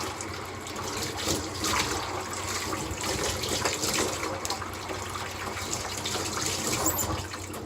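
Razor rinsed under a running tap, a steady close rush of flowing water with splashing that continues evenly for several seconds, no talking.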